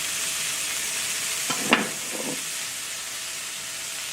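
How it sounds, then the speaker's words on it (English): Burger patties fry in a pan holding leftover sausage grease, giving a steady hiss with one brief louder crackle-and-scrape near the middle. "I'm cooking mine in a pan that I cooked sausage in this morning"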